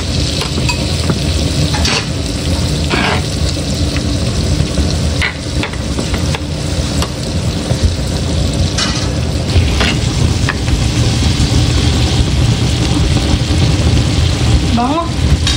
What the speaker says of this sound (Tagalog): Haluin po natin ito.